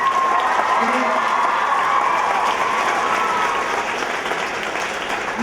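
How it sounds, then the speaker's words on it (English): A coaches' conference audience applauds and cheers for several seconds, a loud, steady wash of clapping with a faint tonal voice or cheer riding over it, tapering slightly toward the end. "Can I have applause?"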